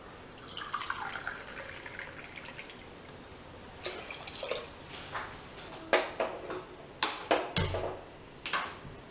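Water poured into a cooking pot on the stove while preparing a milk-based sweet rice offering: a soft steady trickle at first, then a series of sharp drips and metallic clinks, close and fairly quiet, with no talking.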